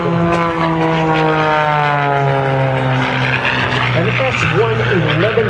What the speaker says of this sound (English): S-111B biplane. What a generation of airplanes this airplane has become.